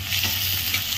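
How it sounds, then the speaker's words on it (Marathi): Chopped onion and tomato sizzle loudly in hot oil in a pan for egg bhurji, a close, steady hiss with no speech. "तेल टाकलंय आणि कांदा आणि टमाटा टाकले"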